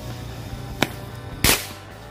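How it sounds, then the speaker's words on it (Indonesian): A "tank baja" firecracker goes off outdoors with two sharp, close bangs about half a second apart, the second louder with a short ringing tail, over a low background hum. "ini kita nyalakan mercon tank baja"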